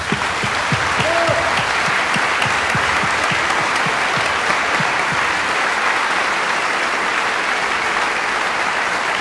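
Loud, continuous audience applause at a concert by a mezzo-soprano and a guitarist, a dense wash of clapping that holds steady for several seconds, with a faint vocal murmur.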